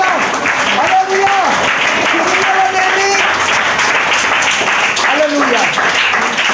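A congregation applauds during a Telugu church sermon, steady dense clapping that runs the full length, with voices shouting over it.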